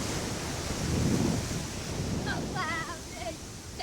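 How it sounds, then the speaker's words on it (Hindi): Ocean waves wash steadily onto a beach in a broad, continuous surf roar with some wind noise, while a voice speaks briefly near the end. "पानी की लहरें बड़ी जबरदस्त है वैसे तो।"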